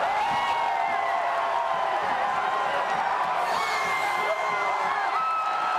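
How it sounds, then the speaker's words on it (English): A dense basketball arena crowd at a Kentucky vs Tennessee college game cheers steadily and loudly throughout, a continuous roar with rising whoops and shouts that swell near the end. "Look at this crowd."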